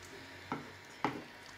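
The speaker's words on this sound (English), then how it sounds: "turn the heat off, and just stir it a little, breaking it up" Two soft clinks of a spoon stirring vichyssoise soup in a pot, spaced about half a second apart, over a quiet background hiss.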